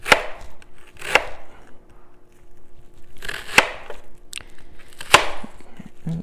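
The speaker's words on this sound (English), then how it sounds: "And then I kind of turn it around and cut it finer." A knife chops food finely on a wooden board in a home kitchen, with several sharp, clear knocks in uneven bursts, close and alone.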